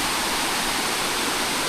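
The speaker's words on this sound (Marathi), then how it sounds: "हा एवढा मोठा वरती धबधबा आहे" A large waterfall in forest near Shahapur, a steady, dense roar of falling water that fills the whole clip without a break, loud and close.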